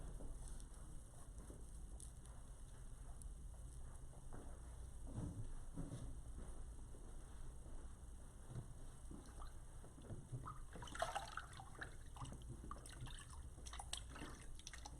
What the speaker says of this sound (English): she's using warm water to rinse off the scrub from her hands